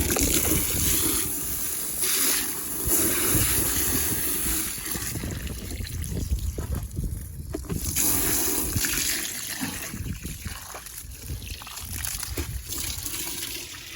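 Water gushes and splashes steadily into a pigs' pool on a farm, a continuous close, loud churning wash with no voices.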